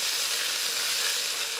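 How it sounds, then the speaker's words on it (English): Thick-cut bacon pieces sizzle in a frying pan, a dense steady hiss of frying fat that stays loud and even with no talk. "Listen to that sizzle."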